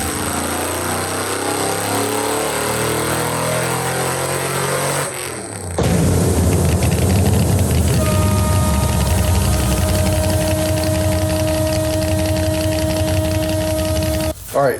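A supercharged drag car engine running E85 fuel roars on a dyno at full load, a dense, loud, continuous blower whine and exhaust rasp that rises in intensity partway through before cutting off.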